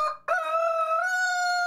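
A rooster on a farm crows once, loud and close, in a long sustained call that follows a short clucking lead-in.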